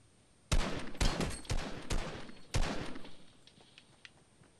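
Fortnite gunfire rings out in a rapid series of sharp, loud shots, roughly six cracks spaced unevenly over a few seconds, then trailing off into fainter distant pops.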